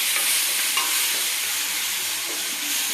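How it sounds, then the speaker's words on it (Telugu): Green chilli paste frying in oil, a steady, close, dense sizzle with light stirring scrapes, no voices present. "ఇది బాగా నూనెలో ఫ్రై అవ్వాలి."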